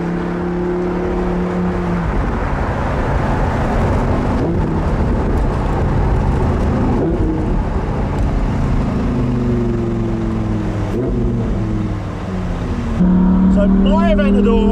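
Lamborghini Huracan Performante engine droning loud and close, revs rising and dipping through several smooth gear changes, with a sharper burst of revving near the end; a voice may sit faintly under the engine.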